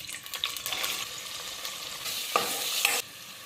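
Shallots frying in a pot for mutton curry give a close, steady sizzle with crackling and a few stirring knocks before the sound cuts off abruptly.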